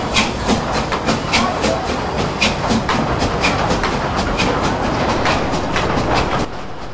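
A steam locomotive hauling a train away from Bago in the early morning on the Shibanxi line gives a loud, rhythmic series of sharp chuffs and clanks over a constant rumbling hiss, fading slightly at the end.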